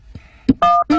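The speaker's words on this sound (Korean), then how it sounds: "잠깐 있어봐. 전화 좀 걸고." A telephone being dialed: a quick series of loud, close keypad tone beeps, each short and distinct, with brief gaps between presses.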